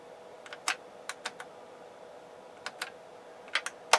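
Sharp, isolated clicks from the rotary and push switches of a Sony TA-F40 stereo amplifier under repair, coming singly and in quick pairs at close range over a quiet background hiss.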